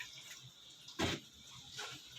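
Water poured into minced meat cooking in a pan for bhuna keema: a single short, close splash and hiss of liquid hitting the meat, then quiet kitchen background.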